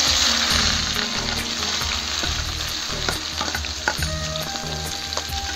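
Onion frying in hot oil with cumin and mustard seeds gives a loud, steady sizzle close by, with stirring and occasional clinks of a spatula.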